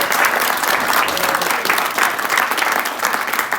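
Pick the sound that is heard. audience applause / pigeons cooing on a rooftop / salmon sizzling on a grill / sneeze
audience applause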